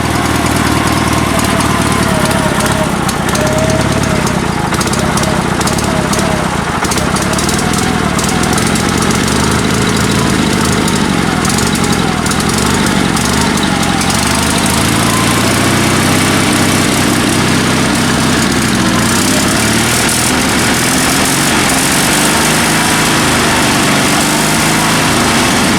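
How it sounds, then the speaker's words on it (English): An old Sears Suburban SS16 garden tractor engine idles steadily and loudly up close, a continuous rough drone with a slightly uneven beat, still in need of carburetor work. "love this old tractor. Listen to it."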